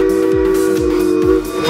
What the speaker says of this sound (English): Steam locomotive.